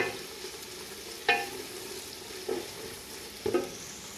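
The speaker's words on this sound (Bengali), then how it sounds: "এখানে এগুলারে সুন্দর করে ফ্রাই করিবা, বুঝছো।" Long beans frying in a pan, with a soft continuous sizzle broken by three sharper stirring scrapes and clatters.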